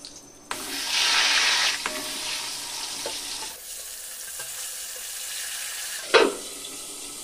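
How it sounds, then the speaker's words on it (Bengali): Pieces of ash gourd fry in a pan for a cooking recipe, a bright close sizzle starting abruptly, then dropping to a softer steady crackle with occasional clinks and a sharp burst of frying near the end. "বাকি চাল কুমড়োগুলোকে আমি ভেজে নেব"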